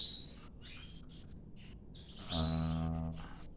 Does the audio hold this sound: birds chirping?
yes